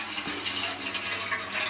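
Cold tap water poured over boiled macaroni sitting in a strainer, a steady close rush of splashing water that runs evenly throughout with no talking.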